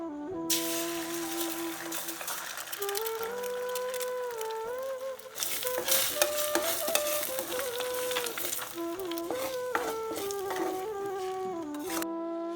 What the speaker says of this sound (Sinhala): පොල් තෙල් ටිකක් දාලා තෙල් ටිකක් රත් වුණාම බිත්තර දෙක දාගන්නවා